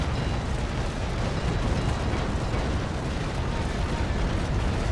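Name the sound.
cannon broadside firing in video game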